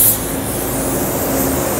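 A Sagola Mini Xtreme paint spray gun atomizing coating in a steady, close, even hiss of compressed air, continuous and unbroken with no voices.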